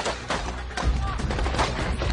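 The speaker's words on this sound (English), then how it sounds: "a convoy of Marines comes under heavy fire while driving past Baghdad" Heavy gunfire strikes a convoy of Marines driving past Baghdad University in Iraq, several sharp shots and bursts ringing out at mid distance over a rough, noisy background.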